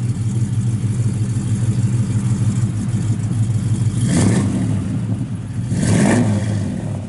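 Strong-running motor of a 1973 Chevrolet Camaro Z28 with a 4-speed idles with a loud, steady lumpy rumble, then revs up sharply twice in quick bursts, close to the listener, with no talking.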